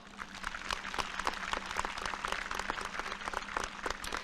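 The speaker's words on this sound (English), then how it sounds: "Let's give our seniors a final round of applause" Audience applauding graduating seniors of the class of 2020 at a high school graduation ceremony, a steady dense wash of many hands clapping that holds throughout.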